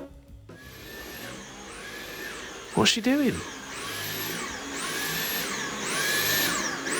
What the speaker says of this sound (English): What's wrong with the Hoover?